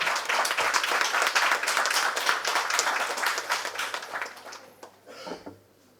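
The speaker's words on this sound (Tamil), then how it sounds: "உங்கள் பலத்த கரகோஷங்களுடன் மேடை கலைக்கின்றேன்" An indoor audience at a Tamil public event on menstrual leave for transgender people applauds to welcome a speaker onto the stage, with steady, dense clapping that thins and fades out toward the end, followed by a last brief burst.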